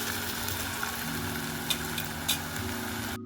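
Chopped onions cook down in a pan for baingan bharit, a soft, even sizzle with a faint low hum underneath, steady and close for about three seconds before cutting out.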